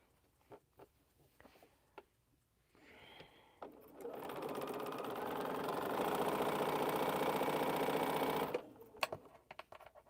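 A sewing machine stitches quilt squares, starting after scattered light clicks and handling noises, then running in a steady whirring burst of about five seconds, close and clear, before stopping with a few more taps.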